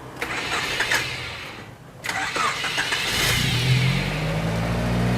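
A car's engine turns over and starts, then revs and settles into a steady idle, heard close up and fairly loud, with a short quiet gap just before it catches.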